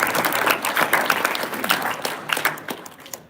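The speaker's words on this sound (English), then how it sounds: "let's give a round of applause for our" An audience at a college track and field team banquet applauds the coaches, a full burst of overlapping clapping that starts strong and gradually thins and fades toward the end.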